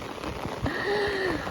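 Heavy rain falls steadily on flooded rice paddy fields on the first day of transplanting, a dense, continuous hiss with a faint higher tone drifting briefly over it.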